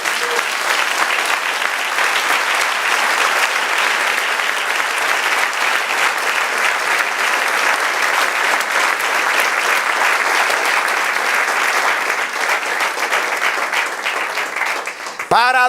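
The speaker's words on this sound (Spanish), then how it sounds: "Denle un aplauso al Señor." A church congregation applauds during a worship service, with dense, steady clapping that stays loud and even for about fifteen seconds before it breaks off abruptly.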